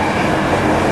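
A passenger train pushed by its locomotive passes close by as a loud, steady rush of rolling noise through the whole brief moment, with no voices.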